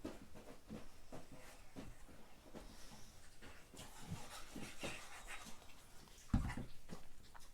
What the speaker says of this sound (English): My dog is down here with me, making a lot of noise.